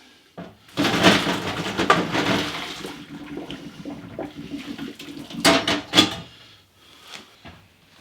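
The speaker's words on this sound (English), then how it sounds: "I'm going to drain the pasta, but I'm not going to rinse it." Cooked pasta poured into a strainer in a home kitchen, hot water rushing and splashing down the drain in a steady broadband gush with a few metallic pot clanks, fairly close and with no talking.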